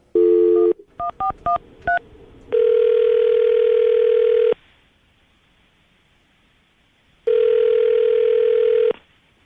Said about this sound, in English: I'm going to dial the phone number right now, see if we can get him on the phone